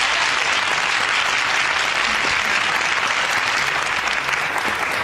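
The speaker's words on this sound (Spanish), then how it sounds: "vamos a recibir a una invitada muy especial con un fuerte aplauso" A television studio audience in 1997 gives a welcoming guest a dense, steady burst of applause that stays loud and even from start to finish with no talking over it.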